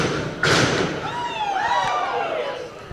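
A pro wrestling clubbing fist strike lands at ringside with a sharp, loud thud, followed by crowd noise and excited shouting that carries on after the impact.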